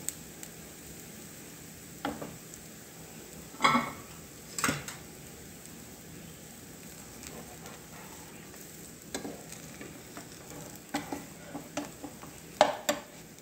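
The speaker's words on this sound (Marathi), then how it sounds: "सगळीकडून तेल टाकून भाजून घ्यायचं." Dhirde batter pancake roasts in oil on a pan, giving a soft steady sizzle with a few sharper crackles and spatters, close by and fairly quiet, with no talking.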